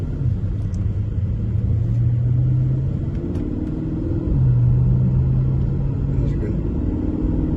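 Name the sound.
Porsche Panamera 2019 GTS driving in sport mode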